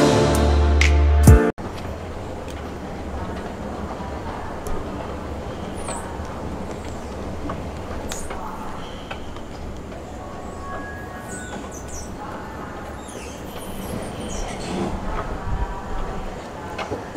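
Train rolling on rails, heard from the last car, a steady low rumble and rattle throughout, with a brief loud burst at the very start and faint scattered sounds over it.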